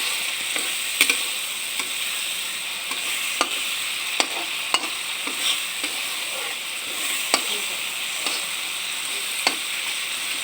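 Onions and coarsely ground mustard paste fry in oil in a pan for an Assamese fish dish, giving a steady close sizzle broken by frequent light scrapes and clicks of a stirring utensil.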